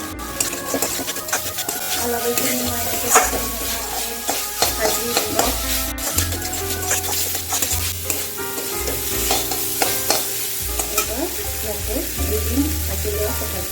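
Jackfruit curry ingredients frying on medium flame, a continuous close sizzle with repeated spoon scrapes and clinks against the pan as they are stirred.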